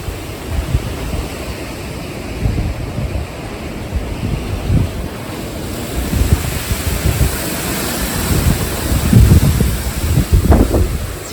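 Wind gusting through a California garden, a continuous rushing roar with buffeting on the microphone that swells and eases, loudest in surges toward the end, with no voices.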